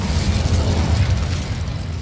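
Incendio fire spell effect in a Harry Potter video game, a dense, loud, sustained rumbling whoosh with heavy low-end crackle that holds steady for about two seconds.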